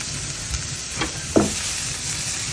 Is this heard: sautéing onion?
yes